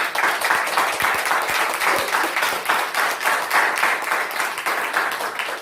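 Enthusiastic audience applause at a Vestige business plan seminar in India, loud, dense clapping from a large crowd sustained evenly throughout, with no talking over it.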